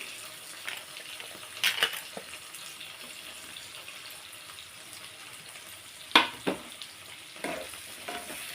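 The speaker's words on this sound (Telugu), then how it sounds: "ఇప్పుడు సొరకాయ ముక్కలు వేస్తున్నానండి" Bottle gourd pieces for a chutney go into a pan and are stirred, giving a soft background sizzle broken by a few sharp scraping clatters of the spoon against the pan.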